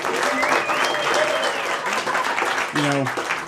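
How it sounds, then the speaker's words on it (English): A crowd applauds steadily and fairly loudly at a spoken word show, a continuous wash of clapping with a few cheers and voices rising over it. "How about a round of applause for the Focal Point?"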